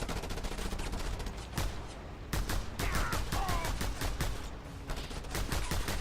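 Rapid, continuous bursts of enemy gunfire in the Just Cause 2 game, with dense rattling automatic fire and sharp single cracks throughout, fairly loud and unbroken.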